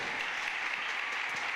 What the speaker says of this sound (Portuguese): aplauda bem forte ao Senhor Jesus